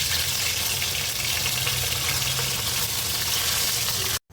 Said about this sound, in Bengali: এই তো মাছগুলো এখন ভেজে নেব।